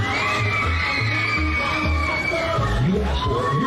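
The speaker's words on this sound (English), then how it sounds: "let me hear you scream" A rodeo crowd in Houston screams and cheers on a fast carnival-style ride, a dense continuous roar of many voices with rising whoops, loud and close throughout.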